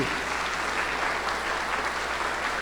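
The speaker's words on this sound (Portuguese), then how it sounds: "a dar uma salva de palmas para esses homens aí" A church congregation at a men's seminar closing service applauds the men, steady dense clapping from many hands filling the room, moderately loud and continuous throughout.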